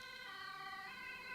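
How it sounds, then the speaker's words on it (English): Ambulance siren sounding outside, a steady wailing tone heard through the room at moderate distance, continuous and unaccompanied by talk. "oh wow, even more noise outside. Now this is an ambulance."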